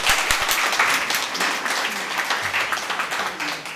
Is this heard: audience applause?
yes